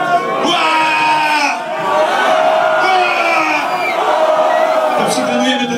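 A large concert crowd in London at a Polish hip-hop show roars and shouts continuously, with overlapping whoops and cheers filling the space, loud and dense throughout.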